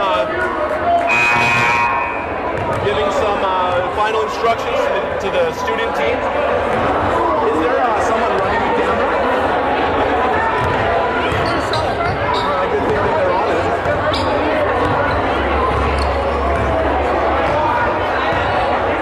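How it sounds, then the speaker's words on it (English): A big crowd of students fills the stands of a packed school gym during a staff-versus-graduates basketball game, a dense wash of chatter and shouting with ball bounces and a buzzer, while a voice talks nearby. "Got a big crowd behind us here. Lots of students, the stands are full."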